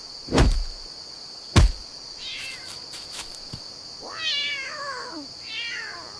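A cat meows several times with rising, wavering cries, opening with two sharp knocks, over a steady high insect-like drone.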